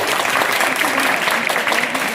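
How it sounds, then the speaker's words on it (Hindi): Applause from an audience at a girls' senior secondary school board-results prize ceremony, steady dense clapping throughout at close to moderate distance. "जोरदार तालियां इन सभी"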